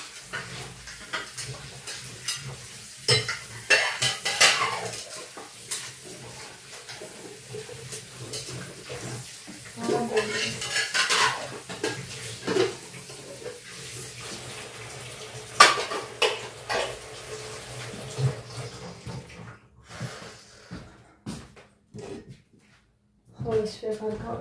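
A large pile of dishes is washed by hand, with pots, plates and cutlery clattering and clinking in irregular bursts alongside splashing water, close and fairly quiet, with a voice occasionally heard in the background.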